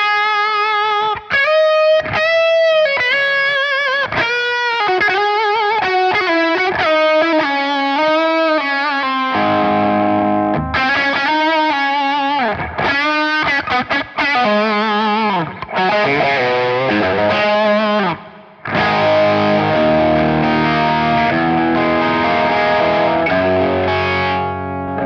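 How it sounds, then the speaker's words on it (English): Electric guitar played through a Walrus Audio Iron Horse distortion pedal, heavy distortion, loud and sustained, moving from picked notes to thick crunching chords with no talking. "It's nice, a smoother distortion sound."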